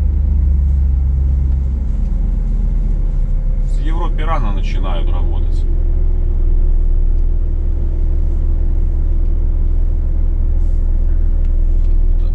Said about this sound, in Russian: полчаса тут машины одна за одной выезжают.